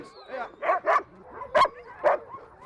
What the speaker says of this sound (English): The dogs know what's going on, they recognize the signs and they get pretty excited by it.